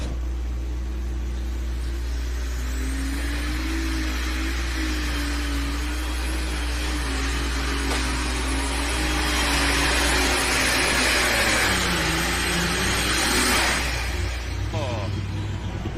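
Open Superstock class tractor pull run on alcohol or diesel fuel at a championship pull, a loud, sustained engine roar with wavering, climbing pitch that swells toward the end, with an announcer talking over it throughout.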